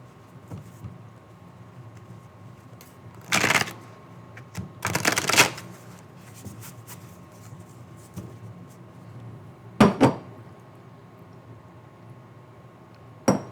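A tarot deck is shuffled in a few quick riffling bursts, separated by quiet stretches with a faint low hum underneath.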